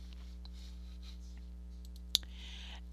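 A single crisp computer mouse click stands out sharply over a faint steady electrical hum, quiet and close, with a little soft rustling around it.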